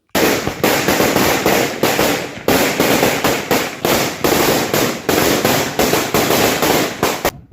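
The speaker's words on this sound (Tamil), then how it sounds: "மக்கள் பட்டாசு வெடித்து கொண்டாடினர்" Firecrackers set off by people celebrating in Puducherry burst in rapid, loud, crackling volleys, with brief gaps between dense runs of sharp pops, continuing without speech throughout.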